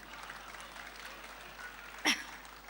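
An audience at a Republic Day poetry recital claps faintly across a large hall, with a single sharper burst of claps near the end.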